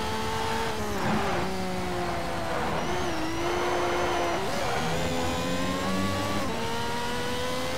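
Ferrari F333 SP race car engine in a racing video game, revving steadily with rising and falling pitch through gear changes, loud and continuous throughout.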